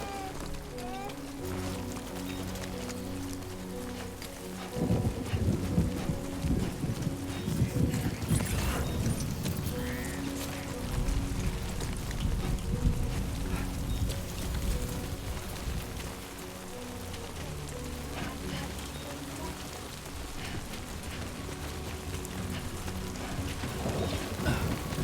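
Rain falls in the video game Death Stranding 2, a steady soft hiss that swells louder midway, layered with faint game sounds and occasional low rumbles, while a person talks over it.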